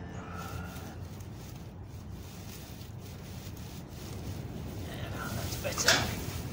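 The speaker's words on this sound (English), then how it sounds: "The rub with a bit of rough straw gets the circulation going as well." Rough straw rubbed over a newborn calf at spring calving, giving a soft, continuous scratchy rustle up close, with a brief louder scuffle near the end and a quiet voice at times.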